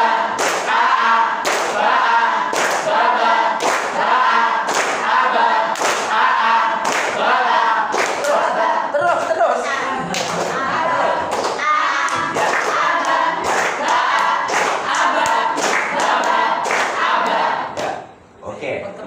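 A group claps in rhythm on a count while chanting together, with loud regular claps over about nineteen seconds of voices in unison that drop off near the end.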